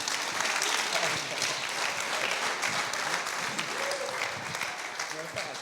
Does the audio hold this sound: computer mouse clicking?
no